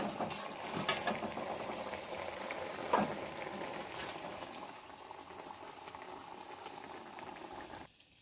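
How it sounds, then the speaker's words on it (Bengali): Chana dal dalpuri deep-frying in hot oil, a steady bubbling boil and sizzle that holds at an even level throughout, with a few soft clinks near the start and no voices. "এবারে আমি ভেজে নেব এগুলো সব।"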